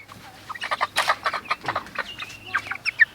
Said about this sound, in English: we have 10 about 7-week-old chicks here set up in our chicken tractor